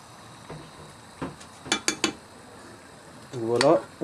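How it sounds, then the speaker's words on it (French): Onions and spices stirred with a utensil in a cooking pot for a Caribbean talombo stew, giving a few soft scraping stirs and sharp clinks against the pot, then a louder rising scrape near the end, close and with no voices. "on remue un peu hein, pour que les épices ils vont vers le bas"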